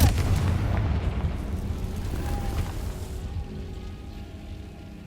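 A fiery blast from the Confringo explosion spell in Hogwarts Legacy opens with a heavy boom, then a rumbling roar slowly fades over several seconds.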